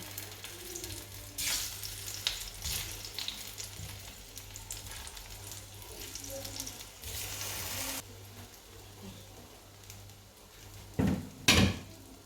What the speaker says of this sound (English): I will make sure that I fry my plantain